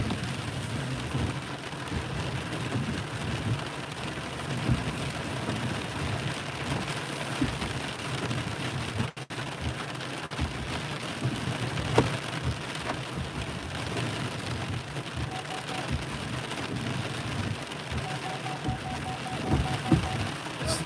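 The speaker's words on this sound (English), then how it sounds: "didn't realize it was raining so hard" Heavy rain pours steadily onto the roof and windows of a car stopped at a morning rideshare pickup, a dense, constant hiss that fills the whole stretch without a break.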